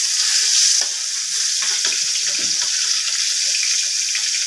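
Koi fish frying in hot oil in a pan, a loud, steady, close hiss and sizzle with brief crackles and a short bubbling surge near the start.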